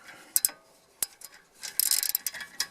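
Ratchet wrench loosening the brake caliper bolts on a BMW E90 during a front brake change, a few quick metallic clicks and rattles in irregular bursts, close and fairly quiet, with no speech.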